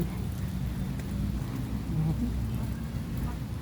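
Steady rain falling at Burnham Lake on a wet morning, a dense, even hiss of drops with a low rumbling undertone that continues without a break.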